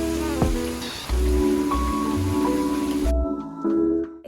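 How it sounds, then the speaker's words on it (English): Steady rain patters outside on a wet surface, a constant close hiss with a few brief clatters and a short drop-off near the end. "I'm gonna go ahead and head home and cozy up in this rain"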